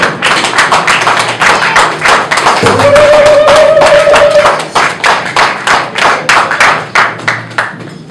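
A church congregation at a Sunday service claps in a steady rhythmic beat, loud and close, with a brief sustained tone partway through.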